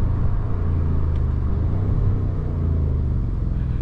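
A BMW M550i with its first exhaust modification rumbles in a steady, loud, close low drone while driving, with faint burbling texture throughout and no talking.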